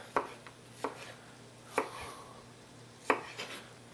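Knife strikes dice vegetables on a cutting board, four distinct hard chops at an uneven pace, close and crisp, over a low steady hum with no talking.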